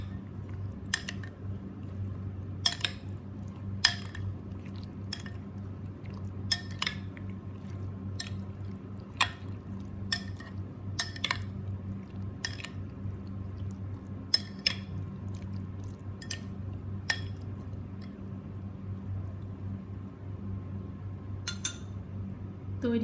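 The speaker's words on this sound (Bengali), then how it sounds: "এখন আমি সব একসাথে ভালো করে মিক্স করে নেব" Raita ingredients with chopped coriander being stirred together in a bowl, giving a run of soft wet squishes and sharp spoon clinks against the bowl, scattered irregularly over a low steady hum with no talking.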